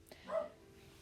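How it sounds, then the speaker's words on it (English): A single faint, distant dog bark, with a short yip, rises briefly over a quiet background hum. "Sorry if you can hear De Niro barking."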